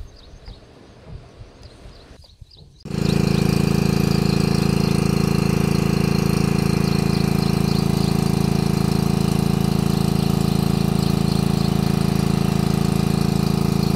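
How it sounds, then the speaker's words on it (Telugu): A Honda engine drives a water pump by fish ponds at Kolleru. After a quieter start it roars up abruptly and keeps running loud and close, a steady droning hum with no voices. "హోండా ఇంజిన్ హెల్ప్తో అయితే మనం అయితే వాటర్ అయితే సప్లై చేసుకుంటున్నాం."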